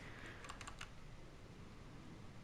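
Quiet typing on a computer keyboard, a short cluster of a few quick key clicks early on, faint against a steady background hiss.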